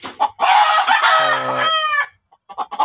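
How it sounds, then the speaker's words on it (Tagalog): A champion fighting rooster crows loudly and clearly nearby, a long strained call followed by a few short clucks. "champion yan, manok na yan."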